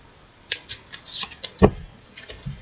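Tarot cards handled and shuffled up close, a scattered series of sharp snapping flicks with one louder thump partway through, set against near silence and no speech.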